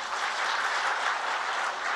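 Audience clapping at a spiritual discourse, a dense, steady roar of many hands that fills the whole stretch at moderate volume.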